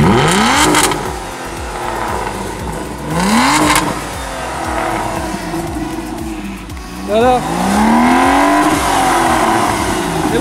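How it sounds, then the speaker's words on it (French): An Aston Martin DB9 V12, heard from outside, revs repeatedly with rising and falling engine sweeps, several loud pulls close by, while a person briefly speaks. "vous avez pu entendre le bruit de la DB9. Quand même, le V12 il chante super bien"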